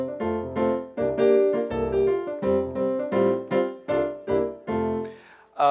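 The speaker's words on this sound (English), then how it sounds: "take the first four bars of the hymn," Opening four bars of the hymn Brethren We Have Met to Worship played as a series of full sustained chords, about ten struck in a steady hymn rhythm, close and clear with no voices.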